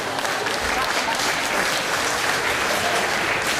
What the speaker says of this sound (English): I can't believe you applauded for that